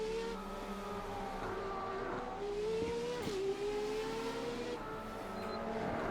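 Race car engine in Assetto Corsa EVO, holding a steady high whine that climbs and dips with gear changes and a sharp shift near the middle, continuous and close with no talking.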